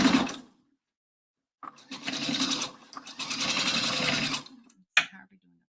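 Sewing machine stitching a round tailor's pressing ham in two bursts of rapid mechanical whirring, separated by a short pause and ending in a brief clack, heard without speech.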